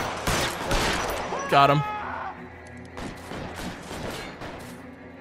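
Video game gunfire from a shootout in LA Noire, with bursts of shots in the opening seconds and a loud crack near the middle, under excited talk from players throughout.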